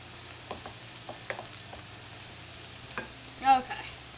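Pork stirred and fried in a pan: soft scraping stirs and light clicks of a utensil over a faint, steady sizzle, quiet and close with no talking.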